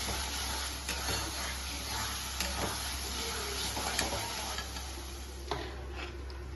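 Spicy mutton and masala frying in a pan for Bengali mutton kosha, a continuous low sizzle with occasional stirring scrapes and soft clinks over a steady background hum.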